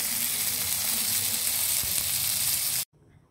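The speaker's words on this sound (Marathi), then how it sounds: "हे असं तेलामध्ये मंद आचेवर 2-3 वेळा परतून घ्यायचं" Surmai kingfish pieces fry in oil over a low flame, giving a steady close hiss and sizzle that stops abruptly near the end.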